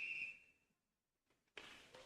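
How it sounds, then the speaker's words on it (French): Referee's whistle at a French third-division handball match: a sharp, fairly loud blast at the start that fades, a short lull, then crowd noise swells in the hall. "Allez, l'arbitre siffle."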